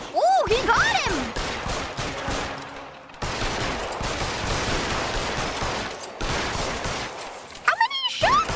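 Gunfire in the L.A. Noire video game during a police shootout, a dense continuous rattle of shots filling the scene, with voices briefly shouting over it at the start and end.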